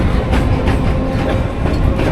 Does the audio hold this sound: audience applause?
no